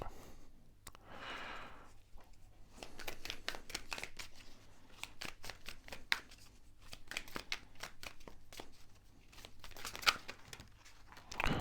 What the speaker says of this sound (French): je vais les monter pour que vous voyez les cartes